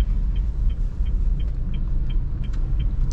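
Steady low engine rumble of a Honda Brio car pulling away and gaining speed, with faint ticking sounds riding over the continuous road noise.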